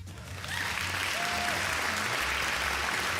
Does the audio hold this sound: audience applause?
yes